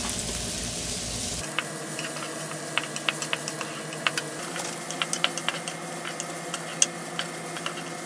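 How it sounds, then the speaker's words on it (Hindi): Onions sautéing in a pan over a medium flame: a steady, soft sizzle with scattered small pops and ticks throughout, close by and with no one talking. "मीडियम फ्लेम पर इसे आप सौटे करें।"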